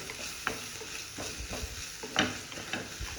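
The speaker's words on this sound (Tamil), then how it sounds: "கொத்தமல்லி வதக்கி விடு." Coriander and mint sizzle softly in a frying pan for a brinjal tomato kadayal, with a spoon scraping and stirring in irregular strokes against a low frying hiss.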